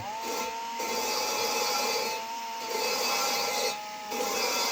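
A drill spins a valve to grind and reseat it in an engine head, making a continuous rasping, rubbing whir that pulses in strength with each stroke.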